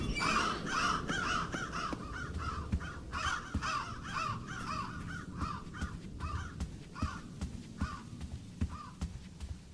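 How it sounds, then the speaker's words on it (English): Birds called caws in the Roblox game DOORS give a long run of harsh, repeated cawing, loud at first and then thinning into scattered calls over a rustling background. "these birds are called caws."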